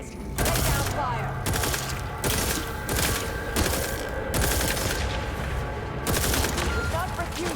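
Repeated bursts of automatic gunfire and clattering weapon mechanisms in The Outer Worlds 2 video game, loud and close, with short gaps between volleys and game voices talking underneath.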